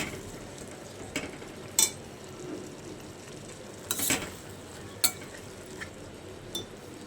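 Tomatoes cooked down with tamarind get stirred in a pan for a tomato mint chutney, with soft scraping and a low sizzle plus a few sharp clinks of the spoon against the pan.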